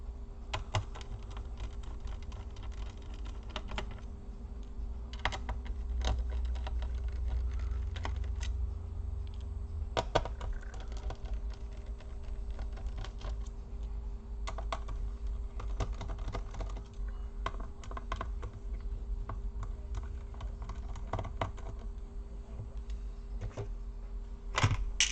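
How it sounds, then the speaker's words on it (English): Screws being removed from a Dell Latitude E4310 laptop during disassembly, a long run of small clicks, taps and light plastic knocks close by, scattered irregularly over a faint steady hum, with no voices. "we're gonna start removing all the screws."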